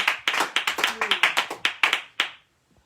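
A church congregation claps for Jesus in a quick, steady rhythm, a run of about a dozen crisp claps that slows and stops after two seconds, with faint voices underneath.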